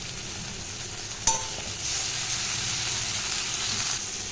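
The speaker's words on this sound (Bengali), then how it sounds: "এবার টমেটো আর পেঁয়াজটাকে ভালো করে ভেজে নেব।" Tomato and onion fry in a pan over a high gas flame, a sharp clank of a utensil followed by a steady, bright sizzle that continues evenly to the end, heard alone without talk.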